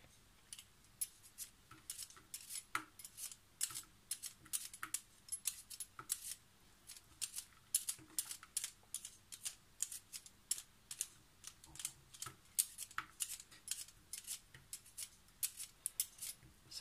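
Rapid, rhythmic scraping strokes of a potato and carrot peeler on vegetables, close and fairly quiet, repeating steadily throughout with no talk.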